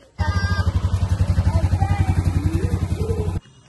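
A motorcycle engine starts up and runs with a fast, even putter close by for about three seconds, then cuts off abruptly.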